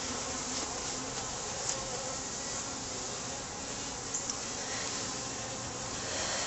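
Honey bees swarm and buzz around an open top bar barrel hive during an inspection, a dense, steady drone close by that fills the whole stretch without pause.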